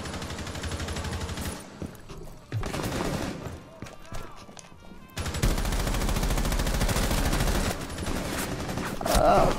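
Sustained gunfire in the Terrorist Hunt game mode, loud bursts of automatic fire and single shots coming in waves with short gaps, some close and heavy, with players' voices mixed in.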